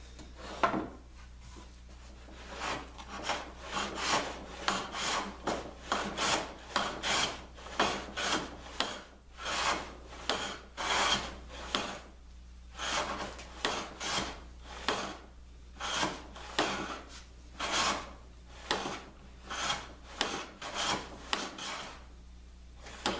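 A hand tool shaves thin curls off the edge of a long wooden board in a steady run of rasping strokes, each a short scraping burst, close and clear with brief pauses between passes.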